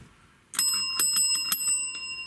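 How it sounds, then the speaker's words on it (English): A small bell gives a quick run of bright, ringing strikes, four or five taps in close succession, close and clear, each tone hanging in the air in an otherwise quiet room. "And we also have a little bell."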